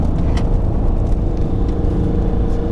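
A small hot hatch pushed hard into a corner on a track, with continuous loud engine whir and tyre rumble holding a strong, steady level from close by.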